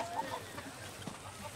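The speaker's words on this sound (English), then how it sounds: "Collect the rooster." Faint clucking from a rooster in the video game Far Cry 6 sits low in a hissy game soundscape, with a few soft bursts scattered through a busy ambient bed.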